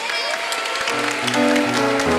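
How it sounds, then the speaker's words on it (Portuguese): A church congregation applauds the children, a steady dense wash of clapping throughout, with music and faint voices mixed underneath. "Mais uma salva de palmas"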